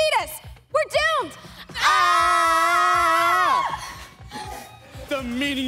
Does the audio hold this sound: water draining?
no